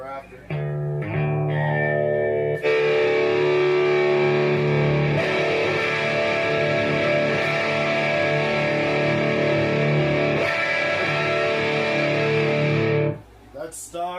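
A Gibson Gold Top guitar with P90 pickups plays through the gain channel of a repaired and modified Peavey Valve King VK100 amp, giving loud, sustained distorted chords that ring for several seconds before cutting off abruptly, with reverb on the tail.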